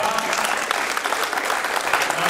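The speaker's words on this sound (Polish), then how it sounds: "Serdeczne brawa." A crowd at a volleyball tournament applauds with dense, steady clapping that fills the whole moment, fairly loud and sustained without a break.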